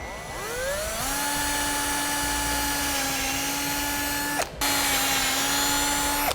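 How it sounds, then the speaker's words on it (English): A drill spins up to a high, steady whine as it bores a 1/4 inch hole through a metal bracket, pausing briefly before resuming the same sustained pitch. "we'll drill a 1/4 inch hole right through those marks that we made"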